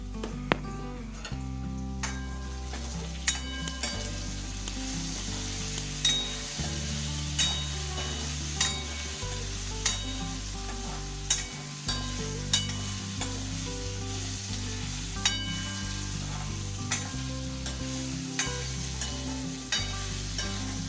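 Homemade French fries bubbling and sizzling in hot oil on a lowered gas flame, a continuous crackling fry with occasional sharp pops and stirring clicks, close and unbroken, with no voices.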